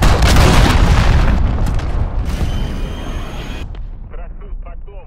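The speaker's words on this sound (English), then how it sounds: "Enemy cruise missile, take cover." A large explosion from an enemy cruise missile strike in a Call of Duty: Modern Warfare match: a loud booming blast with a long rumbling decay that fades over several seconds, a voice heard faintly near the end.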